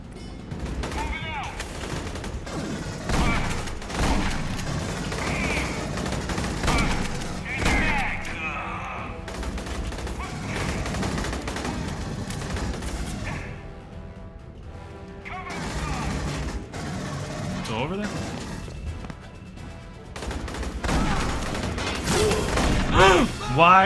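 Shotgun blasts and other gunfire ring out in a firefight aboard the Sulaco in Aliens: Colonial Marines, loud repeated bursts with crashes and mechanical clatter spread through the stretch, with a voice talking over parts of the action.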